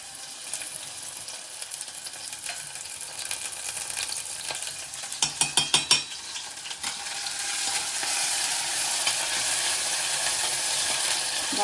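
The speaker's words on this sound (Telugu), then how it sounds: "తర్వాత ఎండ్రాయిల్ ఇలా వేసుకోవాలి" Dried red chillies crackle and sizzle in hot groundnut oil for a tempering, a steady close frying hiss with a brief burst of sharp crackles midway, swelling louder toward the end.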